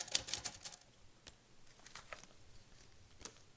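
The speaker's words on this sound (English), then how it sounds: "One of the things I'm doing now is I'm incorporating a typewriter" Typewriter keys strike in quick uneven bursts, crisp and close, with a dense flurry at the start, scattered single clacks, then a final sharp strike near the end.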